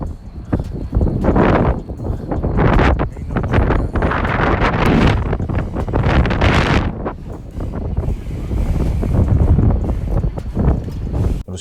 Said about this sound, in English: Remember what I said about Toronto being windy at that time in 2018?